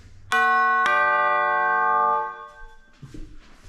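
Doorbell melody on chimes: two bright metallic strikes ring out close and clear, their long shimmering tones sustaining and fading over a couple of seconds before faint background noise returns.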